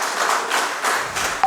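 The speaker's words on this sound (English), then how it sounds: "Clap for him. Applause." An audience at a World Youth Skills Day educators' event gives brief applause, soft distant clapping in a few waves that fades after about a second and a half.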